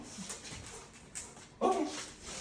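A pet dog whimpers in a short, close burst during an indoor training session, with faint quieter whines before it.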